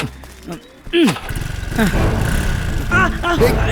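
A motorcycle engine catches and revs, then settles into a steady throbbing drone as it pulls away, loud and close, with people talking over it.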